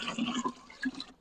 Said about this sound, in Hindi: और कुछ इसमें और पानी डालते हैं